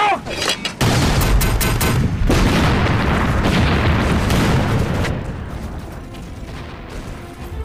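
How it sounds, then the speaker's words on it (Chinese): Artillery cannons fire repeatedly in a war film battle, a heavy, continuous roar of booms and blasts that starts with sharp cracks and stays loud throughout, fading slightly near the end. "炮手填弹，不间断放炮"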